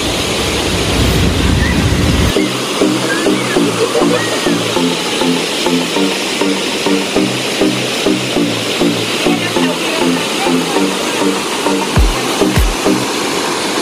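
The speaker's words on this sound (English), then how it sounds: "See over there, it's the noise you always hear. It's the waterfall." A waterfall in a natural setting roars as a steady, broadband rush of falling water, loud and continuous, with a rhythmic pulsing pattern over it from about two seconds onward and a couple of brief knocks near the end.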